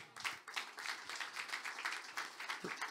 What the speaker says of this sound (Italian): Strippoli e Francesco Salemme, detto Cischi, a cui farei un applauso.